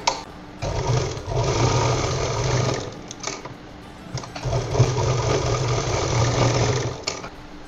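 A sewing machine stitches a purse made from blouse fabric in two sustained whirring runs with a short pause between, close and steady, with a few faint clicks and no talking.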